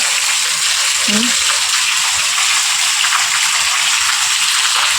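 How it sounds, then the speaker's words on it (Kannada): Heavy rain pours down in a steady, loud, dense wash that lasts throughout, with a brief faint voice near the start. "ನೋಡಿ ಎಷ್ಟು ಜೋರಾಗಿ ಮಳೆ ಬರ್ತಾ ಇದೆ"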